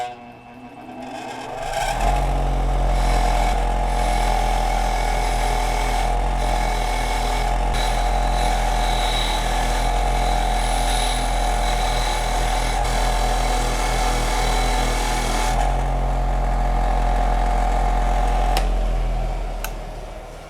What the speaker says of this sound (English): corrosion on this that I'm going to have to clean up on my wire wheel